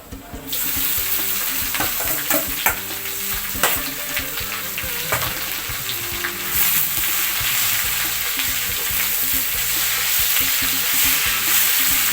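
Mixed vegetables with garlic hitting a hot pan: a sudden loud sizzle bursts in and holds steady, broken by the clatter and scrape of a stirring utensil, up close, with no talking.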